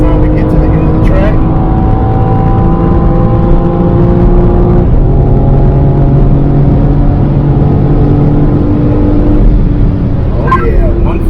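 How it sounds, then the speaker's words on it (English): A BMW M3 Competition xDrive at full throttle uphill on the Road America track, engine droning loud and close with steady rising harmonics and a brief shift dip midway, heavy road and wind roar underneath and no audible voices. "Full throttle uphill, full throttle uphill"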